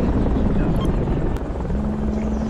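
Steady, loud rotor and engine drone of a helicopter in the military video game Project Reality, heard from inside the cabin, continuous and even throughout, with faint voices beneath.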